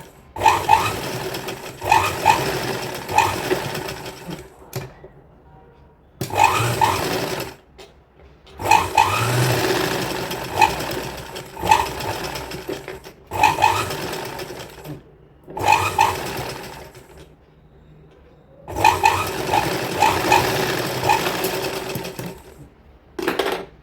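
A sewing machine stitches the corner of a kurti in repeated whirring runs of a few seconds each, separated by short pauses, close and steady, with no talking.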